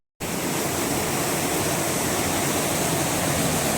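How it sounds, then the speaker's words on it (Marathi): A waterfall at Devgad roars steadily, a dense, constant rush of falling water that starts abruptly and stays loud and even throughout, with no voices over it. "बघा पाण्याचा आवाज आहे"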